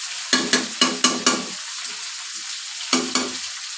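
Chicken frying in a pan with spices for biryani, sharp bursts of sizzle as pieces are stirred and turned, five quick scrapes in a row, a pause, then two more.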